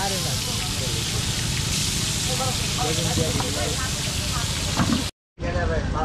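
Hilsa fish stirred in a pan at an outdoor spot by the Mawa ferry ghat, giving a steady loud sizzle and hiss with scraping over a crackling background, cut by a brief dropout near the end.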